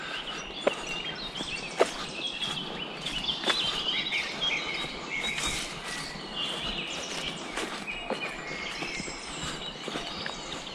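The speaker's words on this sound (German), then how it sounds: "Hört ihr das Vogelzwitschern und so?" Birds chirp and call at an abandoned army site, scattered sharp tweets over a steady outdoor background, with a few brief knocks or steps nearby.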